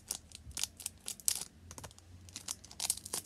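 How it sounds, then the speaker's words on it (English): Scissors snip and crinkle through the foil of trading card booster packs, a quick irregular series of close, sharp cutting and rustling sounds with no speech. "I can't open packs, so I use scissors."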